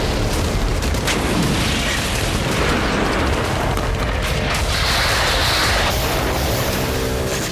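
Explosions from a night missile and kamikaze drone attack on Sevastopol form a dense, continuous roar of booms and bursts, loud and reverberant, with no break for the whole stretch.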